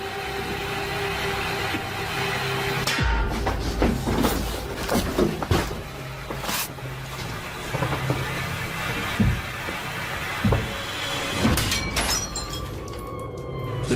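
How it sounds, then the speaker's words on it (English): A wardrobe mirror bursts outward with a sharp glass shatter, followed by scattered crashes, clatters and thuds of falling shards over a rumbling background in a haunted house setting. "The mirror on the wardrobe burst outward"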